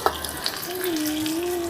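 Catla fish frying in oil in a pan over a village wood-fired stove, with a steady, dense sizzle and soft crackle throughout, fairly close and uninterrupted.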